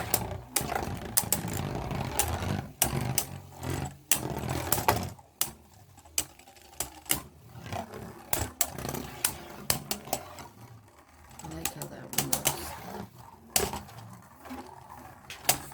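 Beyblade spinning tops clash in a stadium during a battle against Hasbro GT Beyblades, with sharp repeated clacks and rattling impacts over a faint whirring spin, close and fairly quiet.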